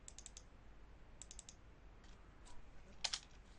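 Keyboard shortcut keys are pressed on a computer during 3D modelling work, giving a few quick clusters of light clicks near the start, a second burst a second later and a sharper pair near the end, all fairly faint in a quiet room.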